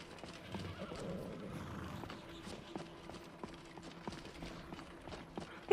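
A horse whinnies in Skyrim VR, then rhythmic clip-clopping hooves trot steadily along, fairly quiet and alone, with a sudden loud sound at the very end.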